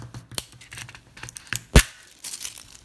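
A thin foil sheet is peeled off a page of a foil art book, giving crinkly tearing and rustling in short bursts with one sharp louder rip near the end, close and clear.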